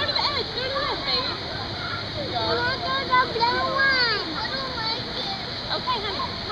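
A small child splashes in a waterslide pool, with continuous water splatter and churning close by under an adult's encouraging voice and a child's vocal sounds.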